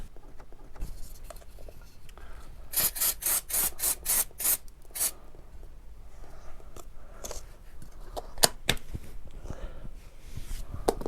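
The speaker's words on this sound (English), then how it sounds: "Give that a really good clean down, because brake fluid is horrible stuff." Scooter brake parts on a Royal Alloy GP being sprayed with brake cleaner and wiped down, a run of short spray bursts in quick succession followed by soft rubbing and wiping sounds at close range.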